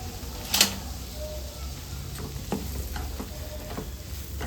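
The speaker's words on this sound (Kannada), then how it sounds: "ಅರ್ಧ ಕಪ್ಪಷ್ಟು ಚಿರೋಟಿ ರವೆನ ಹಾಕ್ಕೊಂಡು ಚೆನ್ನಾಗಿ ಫ್ರೈ ಮಾಡ್ಕೊಳ್ಬೇಕು" Chiroti semolina frying in oil in a pan for kodbale, a low steady sizzle with a few soft stirring scrapes and clicks spread through, fairly quiet and without talk.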